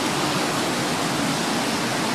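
Spring water flows steadily from a hillside source in rural farm country, a constant rushing, hissing wash with no pauses and no voices.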